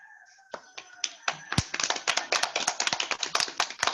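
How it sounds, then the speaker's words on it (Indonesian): Scattered claps from a school class that quickly build into the group clapping together, brisk and uneven, with a few light voices at the start. "Kita tepuk tangan sama-sama."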